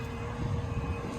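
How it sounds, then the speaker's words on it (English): A Milwaukee transfer pump drawing gear oil through a half-inch suction line, running as a steady low droning hum with a constant mechanical whir and no voices. "it is definitely pumping gear oil."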